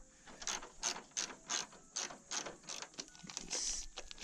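Ratcheting clicks from tightening a short bolt on the header panel of a Ford Grand Marquis, about ten quick rhythmic bursts close to the microphone, with no talking.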